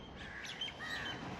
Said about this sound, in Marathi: मस्त असं पक्ष्यांचा आवाज आहे,